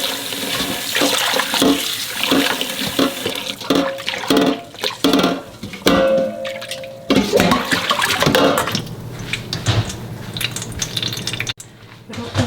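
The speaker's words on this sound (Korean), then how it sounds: "두세 번 정도만 이렇게 맑은 물에 헹궈 가지고 다른 재료 준비할 동안 물기를 꼭 빼주면 됩니다." Blanched fatsia shoots are rinsed under running tap water in a kitchen sink, with a continuous loud gush and splashing, sporadic knocks and clatter, and a brief faint voice in the background.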